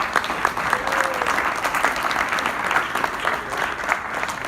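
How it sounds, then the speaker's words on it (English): An audience at a partners' reception claps for the year's grant recipients, a steady, moderately loud patter of many hands with a few scattered voices under it. "So if you can give them a big round of applause"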